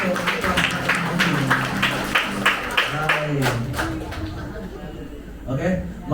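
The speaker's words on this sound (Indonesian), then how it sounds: "Mari kita berikan tepukan yang gemuruh untuk" Applause from guests at an engagement celebration for a couple, a dense run of clapping lasting several seconds that gradually thins out near the end, with crowd voices mixed in underneath.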